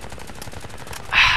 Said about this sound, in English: I don't even know why I shot at him.